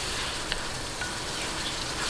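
Halved chili peppers drop into a hot frying pan with a steady soft sizzle and faint crackles, close and even throughout a short stretch.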